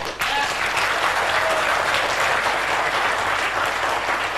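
Loud, sustained audience applause fills a business seminar hall, dense hand-clapping starting abruptly and holding steady throughout without pause or voices.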